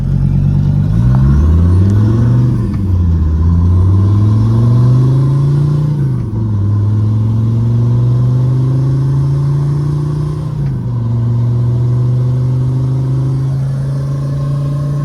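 A diesel-swapped BMW E21 runs while being driven, its engine a loud, close, gravelly drone with a truck-like clatter, pitch climbing and falling through several gear pulls with brief dips between shifts.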